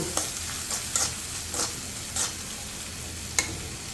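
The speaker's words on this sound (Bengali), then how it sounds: "এই যে মরিচের গুঁড়া দিয়ে দিচ্ছি সব মশলাগুলো দিয়ে এখন আমি মশলাগুলো সব কষিয়ে নেব" Spices with turmeric and chili powder stir-fried in a pan for a fish and taro dish, a constant sizzle punctuated by several sharp scraping spatula strokes at irregular intervals.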